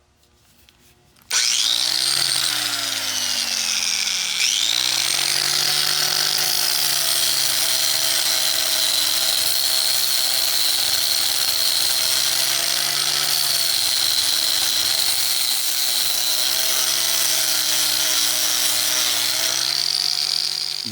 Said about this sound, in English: take the grinder, the angle grinder with the flap wheel sanding disc on it, and go ahead and clean the rest of the stick up